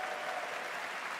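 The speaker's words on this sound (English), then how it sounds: "a round of applause for our amazing devs" Dense, steady applause from a crowd, continuous clapping throughout the short moment.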